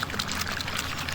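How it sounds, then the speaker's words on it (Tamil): Water pours into a bowl of gram flour batter for egg 65, a steady close trickle and splash lasting a moment, with no talk. "அதுக்கு தேவையான தண்ணியும் கொஞ்சம் ஊற்று"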